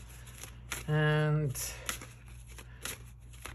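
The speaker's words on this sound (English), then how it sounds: "Just gonna shuffle them a bit like this" Tarot cards shuffled briefly in the hands, a quick riffling burst up close while a person talks quietly around it.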